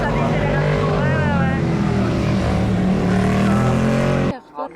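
A motorcycle engine roars loudly and continuously nearby as it passes, its pitch sliding down as it decelerates, then cuts off abruptly near the end.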